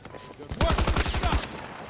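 Rapid automatic gunfire in Battlefield 2042, a loud close burst of about a dozen shots in quick succession lasting around a second, after a quieter lead-in.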